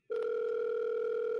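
A Google Voice number ringing on a call, a single steady electronic tone lasting just over a second, clear and close with no voices over it.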